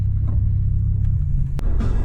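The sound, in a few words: Buick car engine running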